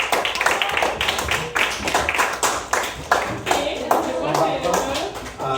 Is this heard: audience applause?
yes